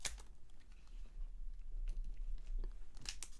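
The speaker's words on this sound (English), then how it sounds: "So I'm going to cut this pack open here with my trusty illegal Pokemon card cutting scissors." Close, crisp snipping and crinkling as scissors cut open a foil Pokémon trading card pack, a series of small irregular clicks and crunches in a quiet ASMR setting.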